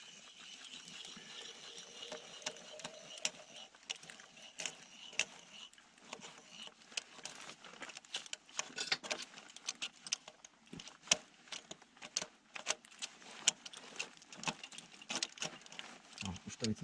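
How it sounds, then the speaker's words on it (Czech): An ice screw being turned into ice to build an anchor, a run of close scraping, clicking and crunching bursts that grows denser over time, with breathing and a few words of speech mixed in. "v úrovni pasu navrtám vlastně jakoby dolní šroub toho štandu"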